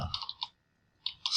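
Computer keyboard typing a search term, a few quick close clicks in two short bursts separated by a brief pause.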